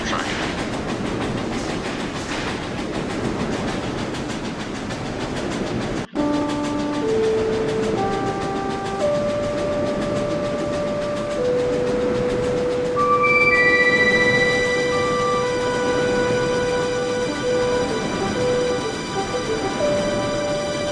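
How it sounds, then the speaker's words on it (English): Steam locomotives A&WP 290 and BM&R 425 run in Trainz Railroad Simulator 2019, a rumbling rail roll joined after a sharp cut by sustained whistle tones that shift pitch and overlap for the rest of the stretch. "Numbers 290 and 425 have steamed on as they were on their way."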